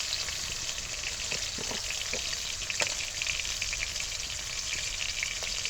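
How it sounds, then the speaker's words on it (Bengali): Chopped potato chop filling with tomato frying in a pan with salt, giving a steady even sizzle with a few light spatula taps scattered through it. "এবার এগুলোকে একটু ভেজে নেব সাথে একটু লবণ দিতে হবে"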